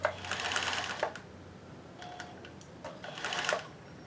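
A vintage sewing machine fitted with a 12-volt brushed motor runs in two short bursts, whirring steadily before slowing and stopping with the needle down, quiet and close with a pause between runs.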